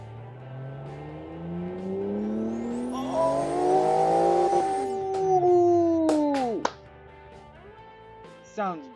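An 80s-style rally car in the Automation game revs up in a rising, sustained engine tone with harmonics climbing and holding, then the revs drop sharply and cut off, leaving a few short bursts.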